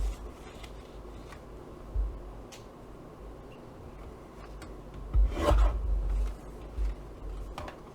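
Scissors or a blade cutting strips of card for a candle-themed explosion box, heard as soft rasping and scraping strokes close by, with a brief louder cut burst partway through and no talking.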